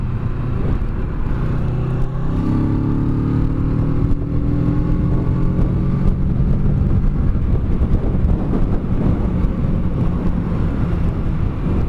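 A 2017 Kawasaki Z650 motorcycle accelerates hard, its engine note climbing steadily in pitch over several seconds, heard from the rider's position under heavy, constant wind rush.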